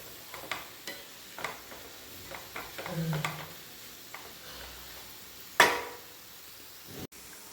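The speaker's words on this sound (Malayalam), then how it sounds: "അര ടീസ്പൂൺ മുളക് പൊടി ചേർക്കുക ഒരു ടീസ്പൂണ് കുരുമുളക് പൊടി ചേർക്കുക നന്നായി മിക്സ് ചെയ്യാം" Chili powder and black pepper are stirred into onions frying in a pan for pepper chicken, with scattered spoon scrapes and soft taps over a faint sizzle and one sharp louder clack near the end.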